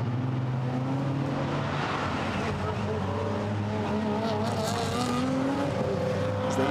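GT4 race cars lapping a wet Misano circuit behind a safety car, a continuous engine drone with shifting pitch and tyre hiss, under steady commentary.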